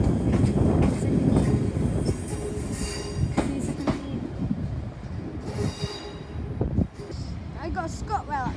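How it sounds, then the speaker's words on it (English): A ScotRail train pulls into Glasgow Central station, wheels rumbling and squealing on the rails as it slows. Metallic screeches and clicks come up close over a steady mechanical roar, and faint voices are heard in the busy station. "I got a ScotRail that terminates here"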